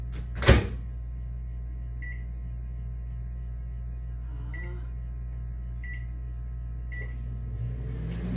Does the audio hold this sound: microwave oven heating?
yes